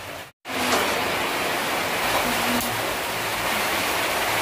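Heavy rain pours steadily outside, a dense, loud wash of hiss after a momentary cutout at the start, unbroken and with no voices.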